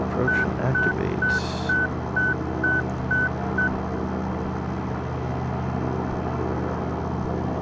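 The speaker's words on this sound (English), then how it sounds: "it's just beeping because the landing gear's up" Repeating electronic warning beeps signal that the landing gear is still up in the cockpit of a Piper Arrow III in the X-Plane flight simulator, roughly eight evenly spaced tones over a steady engine drone, then the drone continues alone.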